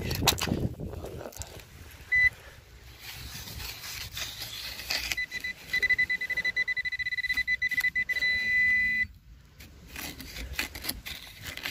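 A metal detector pinpointer probes the ground over a possible buried find, giving a sustained electronic beep tone for a few seconds amid nearby scraping and handling noises.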